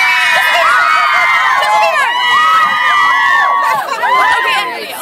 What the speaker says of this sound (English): walk through the crazy Bieber crowd here